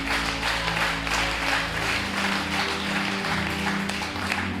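Congregation in a church applauding and cheering to acclaim God, sustained loud clapping over a droning musical backdrop that holds steady throughout.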